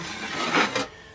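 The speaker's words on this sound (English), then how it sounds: "Now I need some finished sanding." Sandpaper rubs across a drywall patch in one short, close rasping stroke that swells and then fades, with no talking.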